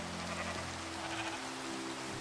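A Minecraft sheep gives a short bleat heard against steady rain pattering in the game.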